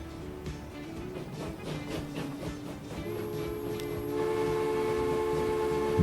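Train running in the Transport Fever 2 game, a steady rumbling drone with tonal engine hum and a brief high whine, continuous and fairly loud throughout with no talk.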